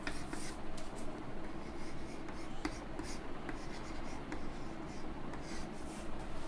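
Marker or chalk scratching steadily across a teaching board during a yoga lecture, a continuous close scraping texture with faint strokes and no voices.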